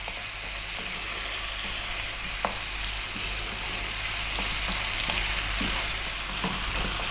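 Sausage frying in a pan with chili powder and oregano over lively heat, a steady close sizzle with occasional stirring clicks and scrapes throughout, no talking.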